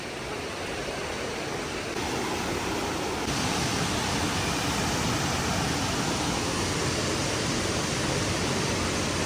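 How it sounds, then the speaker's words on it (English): Steady, close roar of High Falls, a waterfall on a trail loop near Asheville: dense unbroken rushing water that swells slightly a few seconds in and holds evenly to the end, with no voices. "So we're at the waterfalls."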